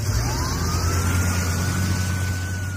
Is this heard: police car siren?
yes